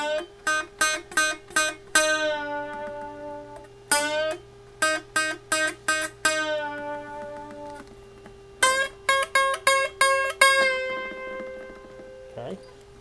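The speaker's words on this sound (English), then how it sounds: "You're going to do a regular bend up, do a bunch of ghost bends, and then a ghost bend and release." Guitar phrase of plucked notes with a regular bend up, a quick series of ghost bends, then a ghost bend and release; clear, close, in short rhythmic bursts separated by pauses, with no talking.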